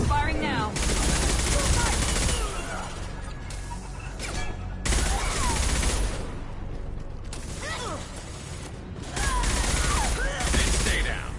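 Rapid bursts of automatic gunfire crackle during combat in Mass Effect 2. Loud sustained volleys alternate with slightly quieter stretches, and mechanical clanks and a faint voice sit in the mix.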